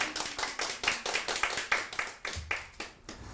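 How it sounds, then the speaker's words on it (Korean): A small group claps during an office board meeting, giving a brisk, slightly uneven run of about a dozen distinct claps, close and fairly loud, with no talking. "박수."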